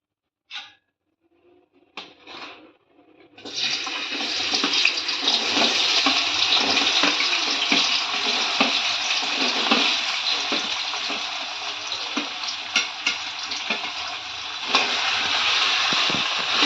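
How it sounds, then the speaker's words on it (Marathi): Finely chopped potato frying in hot oil for sabudana khichdi, a loud, steady hiss and crackle that starts abruptly after a few brief clinks and then carries on continuously with scattered pops. "तेल गरम झाले, त्याच्यात मी हा चिरलेला बारीक बटाटा घालून घेते"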